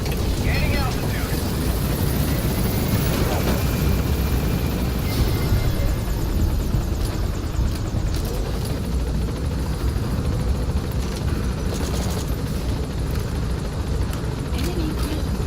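Extraction helicopter lifting off in Metal Gear Solid V, a steady loud rotor and engine roar throughout with game voice announcements over it.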